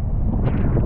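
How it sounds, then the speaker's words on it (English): Strong wind buffeting a microphone on a beach during a surf fishing trip, a loud continuous low rumble that swells slightly midway, with no voices. "So we're gonna wait for this wind to hopefully die off"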